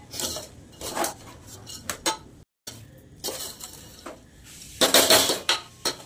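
A metal spoon stirs boondi for laddu in a pan, producing irregular clinks and scrapes against the metal, close and fairly loud, with a short silent break midway and a busier flurry near the end.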